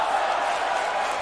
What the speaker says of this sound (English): And this crowd is loving it.